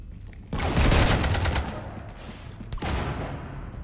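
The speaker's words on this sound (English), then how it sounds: "You want to stop shooting up my ship?" Sustained rapid gunfire from a fight aboard a ship in Mass Effect 3: a dense, loud burst of shots that eases off and then picks up again in a second volley near the end, with no talk.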